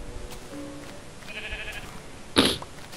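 A short, sudden sheep bleat from the Minecraft video game sounds near the end, fairly loud over a low background of game ambience, with no talking.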